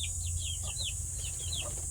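Soft, repeated chirping clucks from hens inside a hut come in quick short bursts over a constant low hum and high electrical whine.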